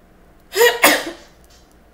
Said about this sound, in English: I don't know why all of a sudden I'm just sneezing.